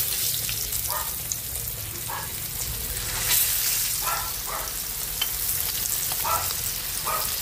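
Second batch of chicken frying in hot oil, a steady broadband sizzle throughout with occasional soft clinks and stirring bumps, close and continuous with no talking.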